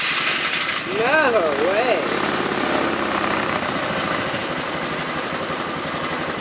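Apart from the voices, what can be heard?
1999 Polaris Sportsman 500 ATV engine cold starting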